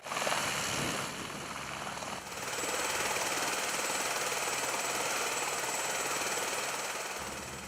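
A helicopter flying over the mountainous region of Rio de Janeiro, its rotor chops and engine whine filling the air continuously, loud and close, steady throughout with no voices.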